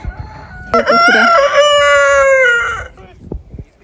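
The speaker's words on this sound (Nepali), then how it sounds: "यस्तो लोकल कुखुराहरू छ नि यहाँ" A rooster crows loudly and close by, one long drawn-out call lasting about two seconds, followed by a few soft clucks.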